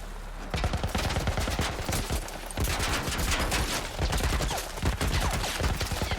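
Sustained rapid gunfire in The Last of Us fills the scene, loud dense bursts of shots that run almost without a break.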